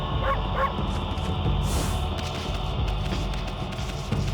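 A wolf character in the video game Ōkami HD gives two quick, yipping barks early on over steady game background sound, with no speech.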